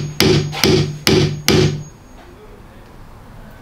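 A hammer strikes a screw four times in quick, evenly spaced blows, each a sharp close metallic knock, then a quiet pause.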